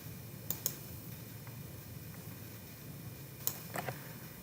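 Two pairs of crisp computer mouse clicks, close and quiet, over a faint steady room hum with soft ticks between.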